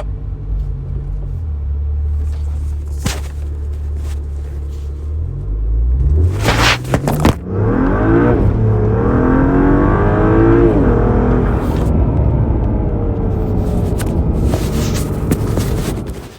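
A BMW E92 335i running an E85 mix accelerates hard from a standstill on a fast 0-100 run, engine idling then surging into loud, rising revs with quick gear changes and sustained roaring pulls, heard from inside.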